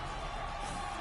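An esports crowd in the stands cheers with a steady, distant wash of noise over about a second.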